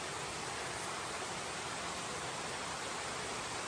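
A waterfall in a Konkan village roars as a dense, unbroken rush of falling water, loud and close with no other sounds.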